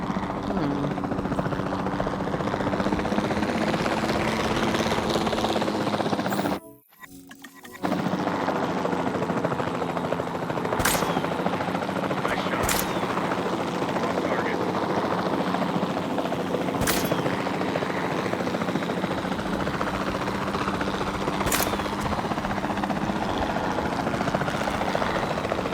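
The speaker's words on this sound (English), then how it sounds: "Then the sensible thing is to take a capture team helicopter." A capture team helicopter flying in the video game Jurassic World Evolution 2, its rotor and engine droning steadily throughout, broken by one brief cut near the start and a few sharp clicks.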